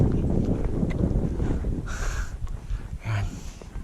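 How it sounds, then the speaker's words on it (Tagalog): Cold wind blowing across the slopes of Mt. Apo, a steady broadband rush buffeting the microphone throughout with gusty swells, while a voice briefly sounds partway through. "Malamig ang simoy ng hangin"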